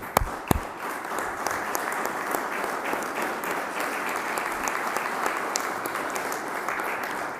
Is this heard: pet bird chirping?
no